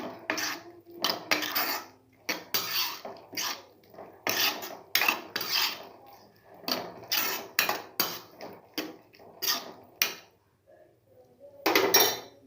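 Scraping and rasping of a utensil against a pan as mushrooms are stirred into masala for gravy, in repeated bursts with short pauses, close up, no voices.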